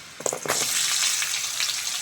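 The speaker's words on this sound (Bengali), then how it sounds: "এইবার সবজিগুলো ভেজে নেব। প্রথমেই আমি গাজরটা দিয়ে দেবো" Carrots go into a hot pan with ginger and garlic for prawn fried rice. A few quick clattering hits give way to a loud, dense, sustained sizzle that fills the rest of the moment.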